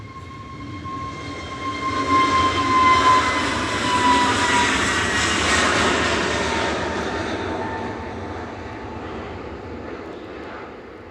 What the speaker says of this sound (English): EasyJet to Antalya now, flight 2139. It's an A321neo.